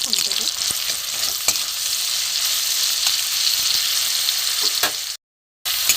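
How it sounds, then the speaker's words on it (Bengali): Tomatoes and green chillies fry with salt in a pan for a bean-chop recipe, giving a steady, loud sizzle with a few stirring clicks. The sound stops abruptly near the end before returning briefly. "টমেটো কাঁচা লঙ্কাটা নুন দিয়ে ভেজে নিয়েছি"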